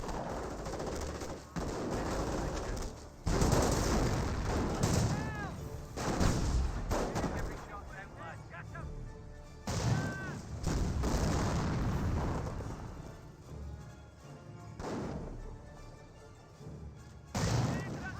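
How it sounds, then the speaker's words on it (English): Rifle grenades and gunfire in the video game Company of Heroes, with repeated sharp bursts of shots and thudding explosions spread through the stretch over a continuous battle din, fairly distant and moderate in level. "Firing some grenades over the hedge."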